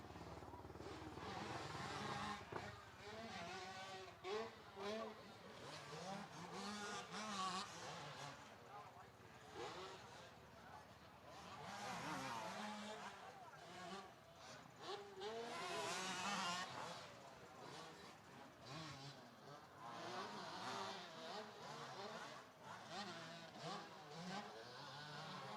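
Two-stroke open-class motocross bikes race around a Winchester supercross track, their engines buzzing and revving continuously in overlapping waves, with a commentator talking over the din throughout.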